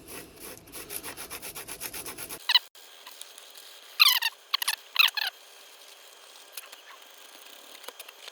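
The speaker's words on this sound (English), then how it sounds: "Just gonna sand a little bit of this off." Eighty-grit sandpaper rubs against a 1969 Dodge Super Bee model car in rapid, rhythmic close-up strokes, then a pause followed by a few short, sharper scrubbing bursts.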